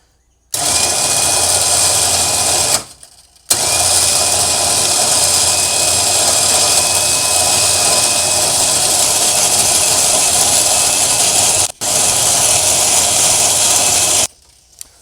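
A winch on a 2010 Polaris Ranger spools in new rope under light tension, a loud, close, continuous motor whine and hiss. It runs in long stretches with a short pause early on, a brief dropout near the end, then stops. No one speaks.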